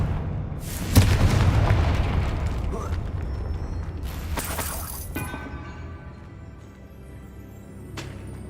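Confringo fire spell explosions in Hogwarts Legacy, a sharp booming blast followed by crackling, shattering debris and a second burst, ringing out over softer game ambience with a faint click near the end.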